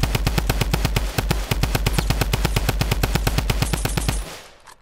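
Rapid sustained machine gun fire in a video game, a loud close burst of evenly spaced shots for about four seconds before cutting off, with no talking.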